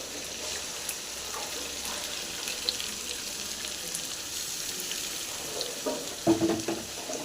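Pirandai (adamant creeper) with masala frying in a pan for a bone-strengthening thuvaiyal, giving a steady close hiss and sizzle throughout with a few louder stirring scrapes near the end.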